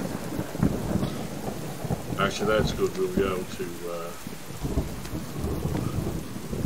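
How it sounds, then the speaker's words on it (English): Thunderstorm and rain effects in the survival video game Subsistence rumble continuously as a steady roar beneath a voice talking throughout. "The storm sound effects really are very loud."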